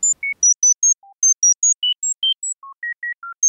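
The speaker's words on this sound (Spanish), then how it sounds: "Este es el sonido de una de nuestras terapias." An acoustic tinnitus therapy sound: a sequence of short, pure electronic tones at shifting pitches, evenly spaced beeps hopping between high and low notes, clean with silence between.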